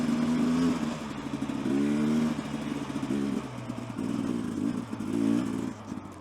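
A gas dirt bike engine revs in repeated surges and dips while climbing a rocky uphill trail, close and loud, with faint clatter from the terrain.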